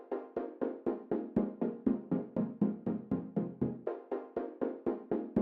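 A dry, unprocessed electronic synth part from a remix of a track, a steady run of short, evenly spaced plucked chord stabs at moderate volume, alone with no voices.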